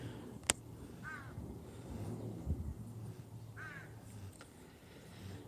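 A crow gives two harsh caws a few seconds apart, fairly distant over a low background hum, with a sharp click and some faint knocking in between.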